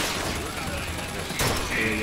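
Continuous rattling gunfire in BioShock Infinite, dense overlapping shots with a sharper burst near the end, loud and close.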